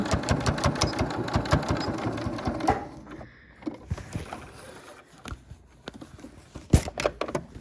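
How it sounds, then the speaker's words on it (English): A sewing machine stitches fabric for a face mask over pins in a quick rapid burst of close, rhythmic needle clatter for about three seconds, then stops, leaving scattered soft handling clicks and taps. "You can sew over the pins, just be careful."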